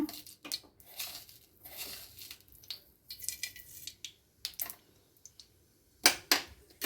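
Mustard seeds splutter in hot oil, giving quiet, scattered pops and crackles that come in irregular bursts, with a sharper flurry near the end.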